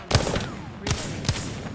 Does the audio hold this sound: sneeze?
no